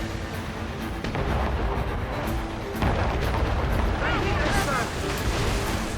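Ship mortars fire during a naval battle in the video game Assassin's Creed Rogue, producing dense, rumbling booms over continuous roaring battle noise. Shouted voices run throughout the heavy, sustained din.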